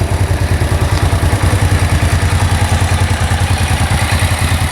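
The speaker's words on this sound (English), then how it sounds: "Returns to idle beautifully." A Suzuki VX 800 motorcycle engine idles steadily at close range after carburettor balancing, a low rhythmic putter with a fast, even beat and no voices.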